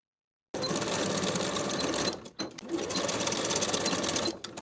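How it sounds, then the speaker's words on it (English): A sewing machine stitches the folded outer edges of a shirt jacket pocket, running loud and close in a steady whir, with a short pause partway through before it picks up again. "Sew those outer folded edges in place with a 3/8 inch seam allowance."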